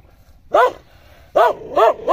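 An angry dog barks in four loud, close bursts: one single bark, a short pause, then three quick barks in a row. A low background rumble runs underneath.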